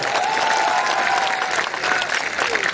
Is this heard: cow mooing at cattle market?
no